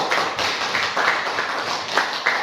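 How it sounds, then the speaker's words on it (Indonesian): Light classroom applause for a student during a Python coding lesson, a small group clapping unevenly with distinct individual claps close by. "kita beri tepuk tangan untuk teman kita"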